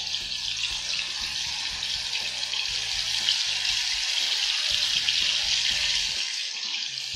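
Chicken sizzles steadily in a pan with garlic sauce, a loud, continuous hiss of frying with low bubbling and faint stirring underneath, without talk.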